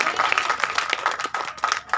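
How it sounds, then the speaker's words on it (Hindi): An audience claps steadily in a dense, fairly close burst of applause lasting a couple of seconds, with a voice faintly heard underneath. "ताली बजाइए, जोरदार ताली बजाइए"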